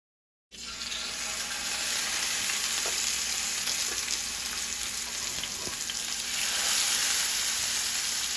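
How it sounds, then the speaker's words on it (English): Olive oil sizzling and frying steadily in a pan on the stove, a loud close continuous crackle that starts abruptly and holds for several seconds with occasional small pops. "I'm just going to take a little bit of olive oil and place it in my pan to get ready to fry the salmon"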